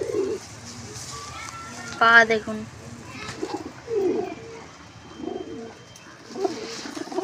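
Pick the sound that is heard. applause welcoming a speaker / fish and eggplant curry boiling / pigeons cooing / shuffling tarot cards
pigeons cooing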